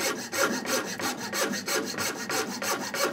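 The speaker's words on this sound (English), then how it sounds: "Now I've got my saw on the thrust cut, not on the pull cut." A handsaw with its blade reversed to cut on the push stroke rips through wood in steady, rhythmic strokes, each rasping pass close and loud, repeating about every third of a second without pause.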